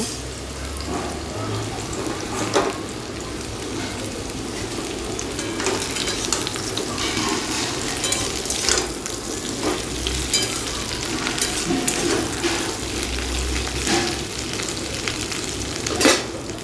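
Ginger paste frying in a hot pan as it is added and stirred, giving a steady sizzle with occasional scraping and clatter, close and fairly loud throughout with no talking.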